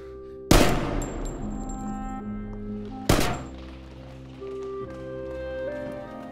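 Two loud, sharp gunshots ring out in a film scene, the first near the start and the second about two and a half seconds later, each with a lingering decay over a sustained musical drone.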